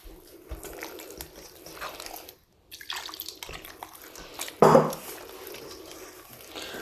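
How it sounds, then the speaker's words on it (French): Flour and semolina dough being mixed and kneaded with water by hand in a bowl, giving soft wet squelches and sticky slaps, with one louder squish near the end; close and fairly quiet, with no one speaking. "On fait pénétrer l'eau à l'intérieur des ingrédients. Donc on mélange, on mélange."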